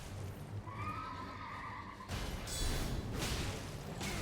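A horse whinnies and neighs in the Elden Ring video game, a high drawn-out call followed by louder rushing, clattering game noise and hoof sounds.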